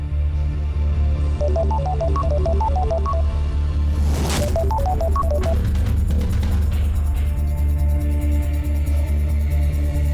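A phone ringtone plays a short, bright repeating melody twice, with a sharp burst in between, over a steady low background drone.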